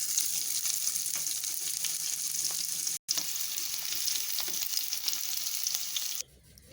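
Green chilli, cumin and onions fry in hot oil for chicken fry, giving a loud, dense, constant sizzle up close, broken by a short cut and ending in a quieter hiss.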